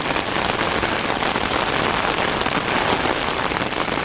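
Torrential rain falls in darkness by a railway and a pond, a constant close roar of spattering drops that stays level and dense with nothing else standing out.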